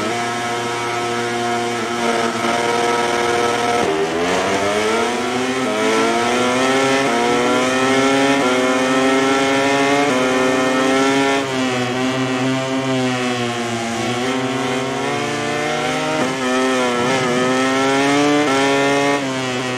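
Many MotoGP 20 game motorcycles on the grid at Ricardo Tormo, Valencia, rev their engines and race off the start, a loud dense layered whine of rising and falling engine pitches that continues throughout.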